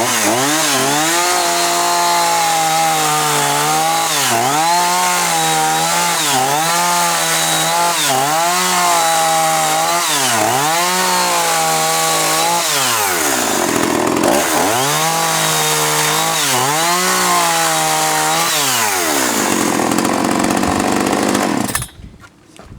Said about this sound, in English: this is a relatively easy to assemble chainsaw, and it's extremely effective